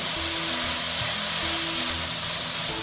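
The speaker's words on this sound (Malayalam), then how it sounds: "മീഡിയം ഹീറ്റിലിട്ട് വേണം നമ്മളിത് വഴറ്റി കൊടുക്കാനായിട്ട്, അല്ലെങ്കിൽ അടി കരിയും" A pineapple mixture sizzles steadily in ghee in a pan over medium heat, giving a continuous, close frying hiss with faint stirring scrapes throughout.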